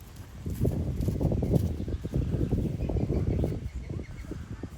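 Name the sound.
horse hooves walking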